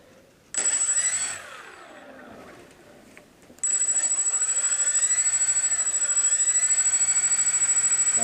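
A ParkZone Mosquito radio-controlled model plane's electric motor starts with a sharp whine, eases off, then settles into a smooth, steady high-pitched drone at low throttle, close and loud.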